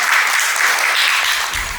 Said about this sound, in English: Let's all welcome him with a huge round of applause